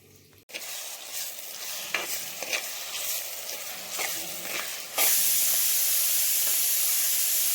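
Frying food crackles and sizzles with stirring clicks, then a sudden loud hiss as spices hit hot oil for tempering, continuing to sizzle steadily.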